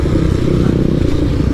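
Honda Tornado 250 motorcycle on a dirt trail, its engine a close, loud, steady rumbling drone with slight rattling throughout.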